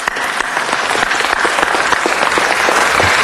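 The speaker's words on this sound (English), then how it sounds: "Let's give them a round of applause, people" Loud, sustained applause from the audience at a city council meeting, dense clapping from many hands filling the chamber steadily throughout, close and continuous with no talking.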